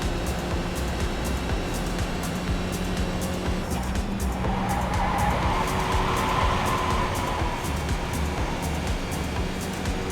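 Race car wrecking in a racing video game: a loud, constant engine drone with skidding tire noise that swells midway, with no voices.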